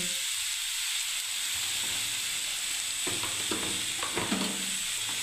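Tomato paste goes into a hot pan and sizzles with a steady, bright hiss, then spoon or spatula stirring scrapes and knocks against the pan toward the end.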